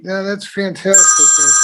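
A phone alarm goes off during a library board of trustees meeting: a steady electronic ringing tone starts partway through and keeps sounding under a person's speech.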